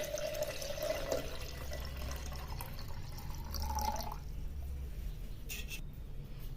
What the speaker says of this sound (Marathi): याच्यामध्ये कंठापर्यंत किंवा गळ्यापर्यंत पाणी भरून घ्यायचं आहे